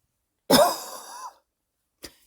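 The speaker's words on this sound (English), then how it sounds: "made me cough." One sharp, close cough that trails off into a raspy breath, followed by a small second catch in the throat, with no talking.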